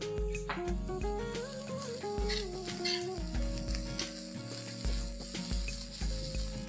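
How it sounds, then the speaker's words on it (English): Onions, ginger, garlic and green chilies sautéing in oil in a pan for a dhaba-style chicken curry, a constant close sizzle with soft stirring under steady background music tones. "And I'm going to saute it till the onions are completely brown."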